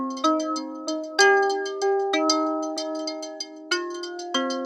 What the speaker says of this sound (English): Moving it around can sound a bit like pulse width modulation on an analog synthesizer.